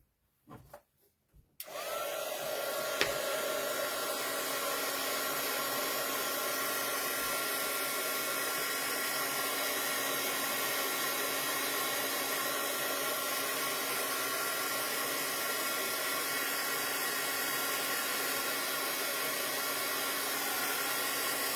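A heat tool dries ink on a stamped card. After a few soft clicks and handling sounds, a loud, steady blowing whoosh starts and runs unbroken, up close, for the rest of the clip.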